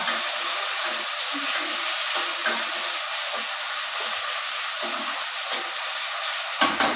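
Vegetables roast in a pan with a steady, close hissing sizzle, while a person talks quietly underneath.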